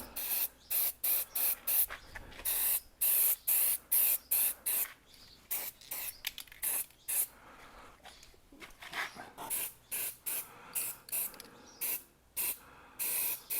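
Short bursts of spray paint hiss onto a Jaguar XKR rear brake caliper, a rapid series of close, sharp aerosol puffs in uneven rhythm with brief gaps between them, fairly quiet overall.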